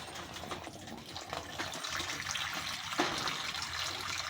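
Water from a hand pump trickles and splashes steadily, a close, continuous broadband wash with no talk over it.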